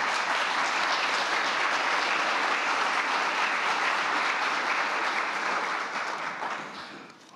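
Steady, dense applause fills a seminar hall at the G20 financial innovation meeting in Fukuoka, greeting Deputy Prime Minister Aso, holding evenly before tapering off in the final seconds.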